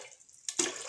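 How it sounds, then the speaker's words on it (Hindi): Water splashes into a pressure cooker on a gas stove while dal tadka is cooked, a short burst of pouring that starts suddenly and continues as a close, steady rush. "अब इसमें हम आधा लोटा पानी डालेंगे।"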